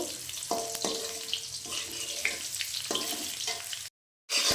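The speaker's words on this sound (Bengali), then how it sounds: "আলুটাকে ভালো করে ভেজে নেব" Oil sizzles steadily in a pan as potatoes fry, with a few clinks of a utensil stirring, close up, then a brief cut to silence.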